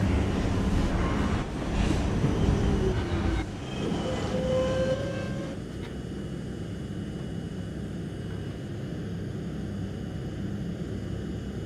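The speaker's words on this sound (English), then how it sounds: "This is a Woodlands Avenue bound M train." An M subway train in a train simulator video game runs with a steady low rumble and rail noise. Brief tones rise and fall early on, then the train keeps up a smooth, even drone, with no talking.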